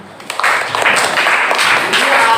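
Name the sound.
applause, clapping for a student's correct answer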